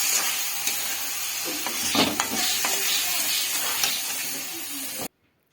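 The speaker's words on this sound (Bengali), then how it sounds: "এটিকে ভালোভাবে একটু নেড়ে চেড়ে নিচ্ছি।" Soaked dal and a fish head are stirred in a hot pan, giving a steady close sizzle with scraping and stirring strokes for about five seconds before it cuts to silence. No one speaks.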